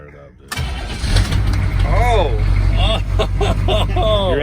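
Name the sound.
car engine starting up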